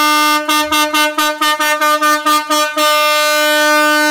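A marine air horn fitted to a car blares in a rapid string of about nine loud, close, pulsing blasts, then holds one long sustained honk with a bright, brassy tone.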